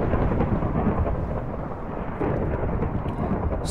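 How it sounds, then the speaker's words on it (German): Loud, continuous rumbling thunder with a steady wash of heavy rain in a video game, filling the whole stretch without any talking. "es regnet und donnert so krass"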